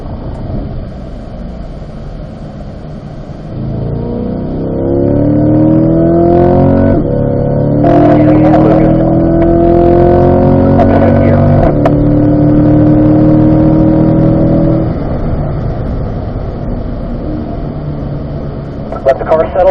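A race car engine on a track hums steadily and then builds into a loud sustained accelerating drone with rising tones before easing off, heard from inside the car, with a person talking over it.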